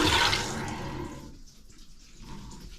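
Water flushes through plumbing pipes to a toilet, a burst of rushing water surging at the start, then fading into a quieter trickling flow with faint gurgles.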